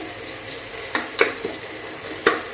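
Tomatoes cooking in a pan for plain biryani, with a soft continuous sizzle and several sharp scrapes and clacks from a spoon stirring against the pan, no voices.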